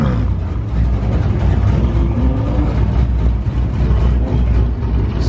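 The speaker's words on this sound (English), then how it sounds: "Everyone has started up their engines." Loud, rumbling exotic car engines rev and roar together up close, a continuous throaty growl with surges as the cars pull away.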